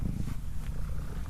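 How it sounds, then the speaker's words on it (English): Steady, close cat purring from a cat riding on a person's shoulders outdoors on a farm, a continuous low rumble with no pauses. "So I have a cat on my shoulders"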